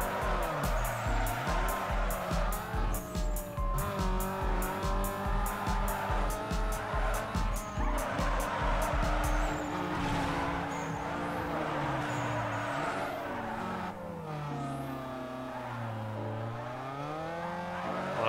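A Nissan 240SX race car in Need for Speed Underground 2 revs hard in a steady run of gear changes, then its engine note swoops up and down more loosely while easing along, with faint tire squeal.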